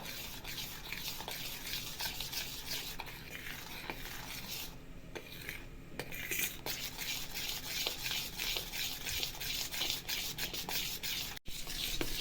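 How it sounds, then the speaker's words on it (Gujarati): A spoon stirs khaman batter made from sifted flour in a bowl, giving steady, rhythmic scraping and swishing strokes that repeat close up for the whole stretch with no talk. "આ રીતે હલાવતા જવું."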